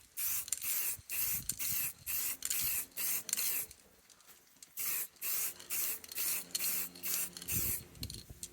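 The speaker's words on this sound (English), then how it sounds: "You want to be 4 to 6 inches away from what you're spraying so you don't get run marks." Spray paint hissing from an aerosol can onto an aquarium background in a steady run of short, regular bursts, close and fairly loud, with no talking.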